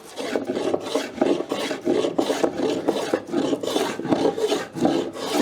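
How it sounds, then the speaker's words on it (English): Repeated rasping shaving strokes of a hand plane across an oak bowl, steady rhythmic passes, close and fairly loud, with no talking. "I'm just going to finish it off with the hand plane"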